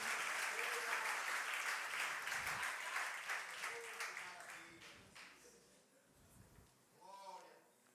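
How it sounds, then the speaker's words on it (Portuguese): A church congregation claps loudly for several seconds during a service. The applause thins and fades toward the end as a preacher's voice carries over it. "Aplauda forte ao Rei."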